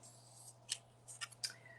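A pair of scissors snips several times in quick, crisp cuts, close and quiet over a low steady hum.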